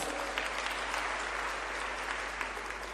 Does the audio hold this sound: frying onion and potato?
no